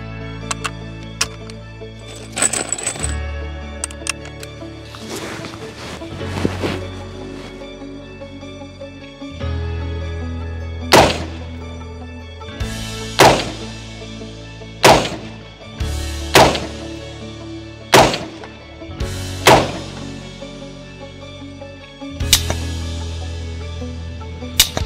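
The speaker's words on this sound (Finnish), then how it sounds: "olisi tarkoitus muutama laukaus ampua" Rifle shots from a Hera Arms The 15th at an outdoor shooting range: a string of sharp, loud cracks spaced one to two seconds apart, each with a short decaying tail, and no talking between them.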